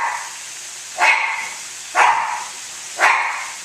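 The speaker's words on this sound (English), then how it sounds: "You can hear my dogs being very wonderful in the background." Dogs bark in the background of a home kitchen, three single barks about a second apart, moderately loud over a quiet room.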